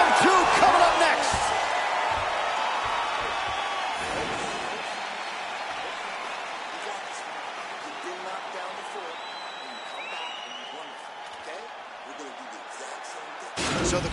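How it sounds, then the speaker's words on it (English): A crowd roars in a UFC video game fight after a round ends, loud at first and then gradually fading to a lower, sustained murmur before a brief swell at the end. "So the crowd voicing its appreciation after that round."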